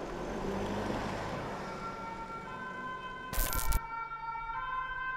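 An approaching emergency vehicle's siren on a road, a steady wailing tone sitting over continuous traffic noise, with a brief loud broadband burst partway through.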